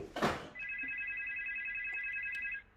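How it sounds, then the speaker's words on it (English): A telephone rings with a steady, continuous electronic trill lasting about two seconds, clear and fairly close, after a brief burst of noise at the start. "Is that a phone?"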